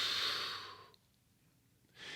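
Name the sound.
inhaling and exhaling in a breathing exercise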